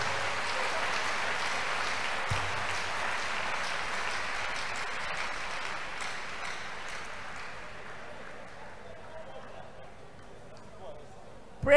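A crusade congregation gives a clap offering to Jesus, a broad, continuous wash of crowd applause that slowly fades over several seconds.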